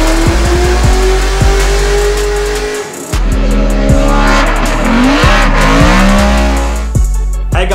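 A Mazda RX-7 drift car chases a Toyota around a D1NZ drift course, engines revving hard and tires squealing in long, loud skids, with a brief dip before the screeching resumes.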